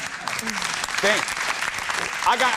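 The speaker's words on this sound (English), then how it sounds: "Robert hit the applause button for that." Applause button sound effect on a radio show, a short burst of recorded crowd clapping heard under people talking and laughing.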